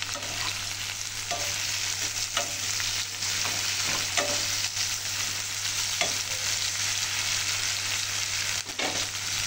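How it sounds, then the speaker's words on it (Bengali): Onions frying in hot oil for a Bengali katla fish curry, a steady close sizzle with scraping stirs and occasional spatter throughout, no talk. "এই তেলের মধ্যে আমি এবার পেঁয়াজগুলোকে দিয়ে দেবো। পেঁয়াজগুলোকে দিয়ে একটু লাল লাল করে ভেজে নেব।"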